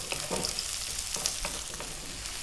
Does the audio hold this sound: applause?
no